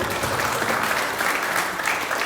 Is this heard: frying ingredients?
no